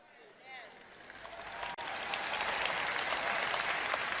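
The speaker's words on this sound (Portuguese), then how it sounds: "Agora suas palmas estão ficando um pouco fraquinhas" Congregation at a sermon breaks into sustained applause, building from quiet to a full, dense clatter of many hands that holds steady.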